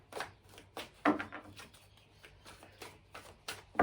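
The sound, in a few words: shuffling a deck of tarot cards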